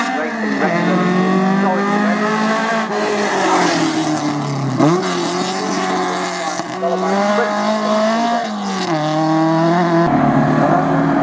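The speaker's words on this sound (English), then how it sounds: "The car, that shape, Alfa," A close, loud Alfa Romeo race car on track, engine snarling steadily and shifting pitch through gear changes as it races past.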